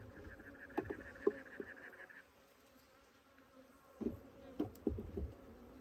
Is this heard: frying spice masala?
no